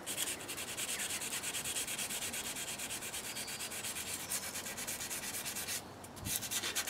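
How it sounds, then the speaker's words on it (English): A knife's bevel being carefully rubbed clean of rust, giving a continuous close, steady scratchy rubbing with a brief pause near the end. "I'm just going to very carefully clean the bevel on the other side as well."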